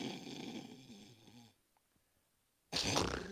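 Loud, rough snoring breath rumbles for a second and a half, then a pause of near silence, then another harsh snore begins abruptly, close and alone.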